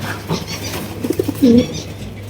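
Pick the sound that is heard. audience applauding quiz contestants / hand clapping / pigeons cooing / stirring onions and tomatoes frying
pigeons cooing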